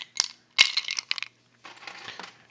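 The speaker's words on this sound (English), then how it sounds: "That's the sound of ice cubes hitting the bottom of my glass." Ice cubes drop and clatter against the bottom of a drinking glass in a few sharp, close clinks and rattles, followed by a softer shifting rustle of ice settling.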